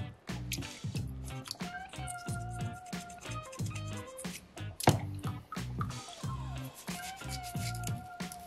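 Water rinses over a soapstone cat carving, making quick repeated dripping, splashing and squelching bursts at close range with brief gurgling tones.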